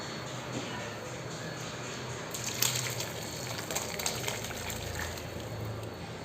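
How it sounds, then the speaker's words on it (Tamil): Cooked beef and its liquid are poured into sautéed onions and tomatoes for a Kerala-style beef curry, giving a soft steady wet pour and sizzle with a few splashy spurts, faint and close. "இதை இப்போ நம்ம வதக்கி வச்சுருக்கிற வெங்காயம் தக்காளியில் ஊற்றிக்கலாம்"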